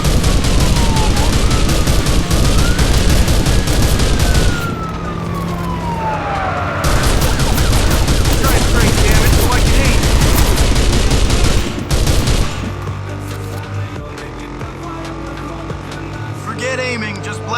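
Rapid bursts of gunfire in the video game Mad Out 2 sound over wailing police sirens and a revving vehicle engine, with players talking throughout.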